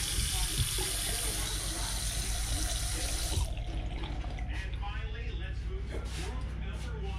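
Water running from a newly plumbed bathroom vanity tap into the sink, a loud steady hiss for about three seconds before it cuts off, leaving faint room noise and movement.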